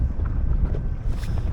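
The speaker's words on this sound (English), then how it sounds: "It's very windy today, isn't it?" Blustery wind sweeps across Ladybower Reservoir around an inflatable kayak, a brief steady rushing roar close to the microphone with a slight gust near the end.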